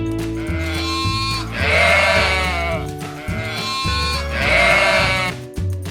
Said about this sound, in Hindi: इसे कहते हैं शीप।